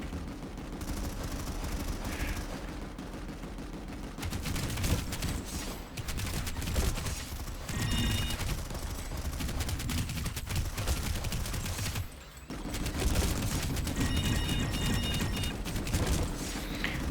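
An NSX Naginata gun firing in a video game, long sustained bursts of dense rapid shots roaring continuously for many seconds, with brief pauses between strings of fire.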